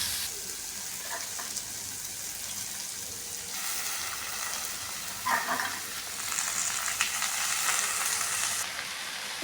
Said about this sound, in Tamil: முருங்கைக்கீரை நல்லாவே வதங்கிடுச்சு